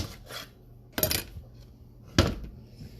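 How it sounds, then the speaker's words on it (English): A kitchen knife slices food down the middle, producing two sharp, close knocks against a cutting board, about a second apart, over a quiet background. "I'm going to slice it down the middle"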